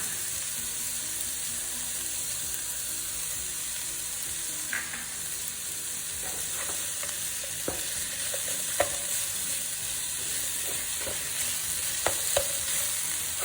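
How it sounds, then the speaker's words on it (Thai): Streaky pork stir-fried in a pan with light soy sauce and sugar, a continuous close sizzle with occasional scrape and clink of the spatula against the pan, no voices. "ผัดไปเรื่อย ๆ เลยนะคะ"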